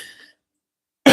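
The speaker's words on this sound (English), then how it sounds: "Pardon me if I cough a little bit throughout the night." A single short, sharp cough bursts out at the end, after a faint trailing breath and a moment of silence, close and loud.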